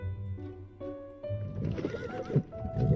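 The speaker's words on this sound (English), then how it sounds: "The sound of horses made me quickly look away from the mirror" Horses whinny loudly over a clattering of hooves, with harmonic neighs rising and falling and a busy, close rhythm of clopping underneath.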